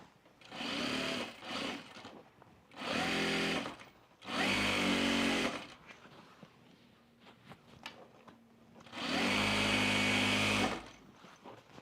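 A sewing machine stitching fabric for a laundry basket, heard in four loud close bursts of rapid whirring needle action, the first one stuttering, with quieter handling noise in the pauses.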